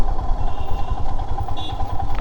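A Royal Enfield Himalayan overdue for service and an engine oil change is ridden in fifth gear, its engine giving a steady, loud, close thrumming throughout.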